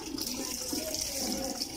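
Water runs steadily from a tap at a cycle wash station, a continuous close hiss and splash with no breaks.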